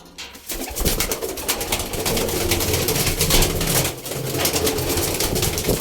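Pet pigeons coo up close in a steady, layered murmur, with soft flutters and rustles of movement running throughout and no voices.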